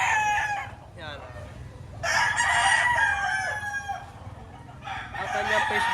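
A bull stag gamecock crows repeatedly close by at a Lipa, Batangas fowl market, with long loud calls and short clucks between them over a steady low background murmur.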